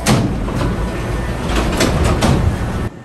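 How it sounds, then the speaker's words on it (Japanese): Hankyu train pulling into the Kyoto-Kawaramachi terminal, a steady rumbling roar with periodic clacks as it slows, then cutting to near quiet at the very end. "列車は終点の京都河原町駅に到着します"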